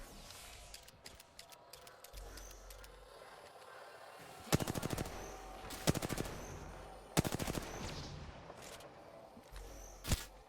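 Rapid bursts of automatic gunfire in a video game, sharp and loud, come in several separate volleys over a low background hum.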